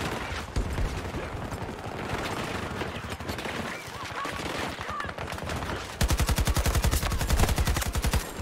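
Automatic AK-24 rifle fire in a Battlefield match, rattling in dense, sustained bursts throughout, growing louder and more sharply rhythmic near the end.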